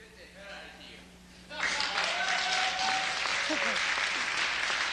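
A university lecture audience in Minnesota bursts into clapping after a faint quiet stretch. The applause swells suddenly and stays full and steady to the end, while a voice carries on faintly underneath.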